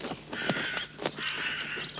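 Crows cawing in a cartoon setting, two harsh caws in quick succession, close and clear over a faint background with no talk.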